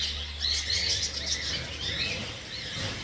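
Many small birds chirp and tweet around a farm, a busy chorus of high, quick calls at moderate distance over a soft background hiss, with no talking.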